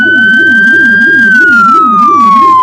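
Bass-tone police siren on a 2018 Ford Interceptor, a loud, close, rapid low warbling wail that holds steady for the whole stretch, with a higher tone sliding slowly downward above it.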